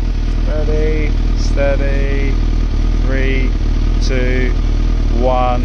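A motorcycle with its stock exhaust idles in neutral, a loud steady low rumble right up close, while a person talks over it with a spoken countdown.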